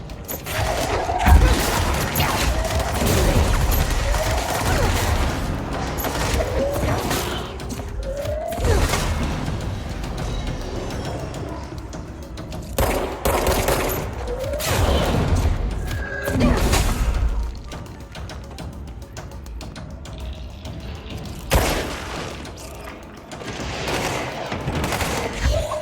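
Repeated bursts of gunfire from the service weapon in the game Control, loud shots and rattling volleys spread unevenly through a long combat stretch, with thuds and mechanical clatter between them.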